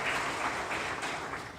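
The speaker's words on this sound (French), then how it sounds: "On peut applaudir tout de suite," Conference audience applauding after closing remarks, a steady wash of many hands clapping at once, moderately loud and continuous throughout.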